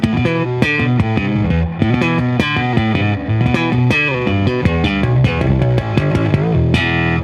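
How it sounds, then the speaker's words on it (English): A bass guitar plays a busy, punchy line through a bright, fizzy EBS Billy Sheehan Ultimate Signature Drive pedal, with buzzy overtones on each note and a final sustained note. "It's really super bright distortion on the top of everything."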